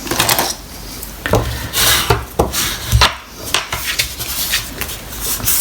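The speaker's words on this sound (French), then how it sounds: "Ici j'ai un petit peu de colle qui dépasse, donc tout de suite je l'essuie." Excess glue is wiped off a paper flower card with quick, close rubbing and brushing strokes, repeated in short irregular bursts.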